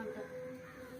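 A crow cawing nearby, a couple of harsh calls standing out over faint background noise.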